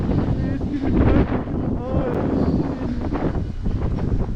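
Strong wind buffets the microphone outdoors at Legoland Florida, a loud continuous rumbling roar with gusts, under a man's speech.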